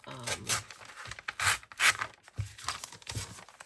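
Paper is torn by hand for a handmade no-sew journal, producing a close series of ripping and rustling bursts in an uneven rhythm.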